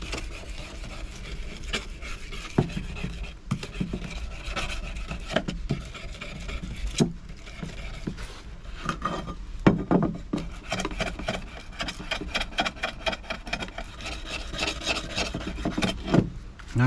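Rasping scrape of a tool worked back and forth across one side of a stove door during servicing, steady and continuous at close range with irregular louder strokes, no talking.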